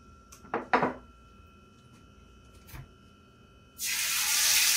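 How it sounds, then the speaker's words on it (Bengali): Fish dropped into hot oil in a pan: a few clinks of utensils first, then a sudden loud sizzle that keeps hissing steadily to the end. "এই তেলটাও গরম হয়ে গেছে, আমি এবার মাছটা দিয়ে দিই"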